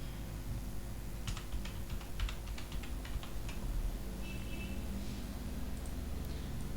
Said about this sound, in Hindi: सबसे पहले हमने न्यू टेक्स्ट टाइप किया